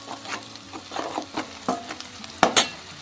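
Onions with turmeric frying in a pan for a palak curry, a low sizzle broken by intermittent scraping stirs and a couple of sharp spoon knocks, close and fairly quiet, no speech.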